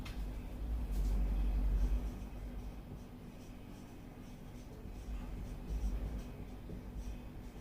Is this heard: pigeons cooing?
no